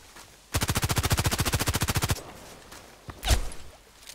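Gunfire in the video game Contract Wars: a single rapid automatic burst of about twenty evenly spaced shots rattles out, close and loud, then silence, then one more heavy shot booms a second later.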